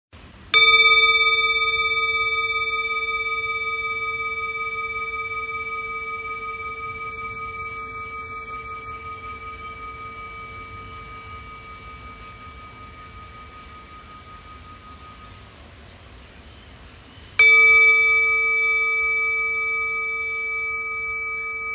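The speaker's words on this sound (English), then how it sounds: "I was given this sound bowl." A sound bowl is struck twice, each strike blooming into a clear, sustained metallic ring with several steady overtones that slowly fade, the second strike coming after a long decay; no voices.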